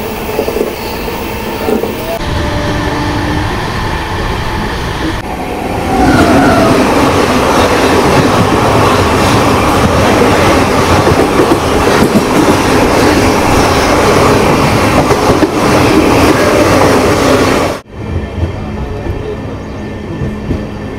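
A Saptagiri Express LHB passenger train between Chennai and Tirupati rounds a long curve below hills. It makes a loud, steady rumble with rhythmic wheel clatter throughout, then dips briefly near the end.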